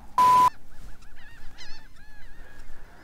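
A seagull calls near a boat while anglers fish for speckled trout in clear water, giving a series of thin, nasal mewing cries after a sharp, loud rustling burst at the start.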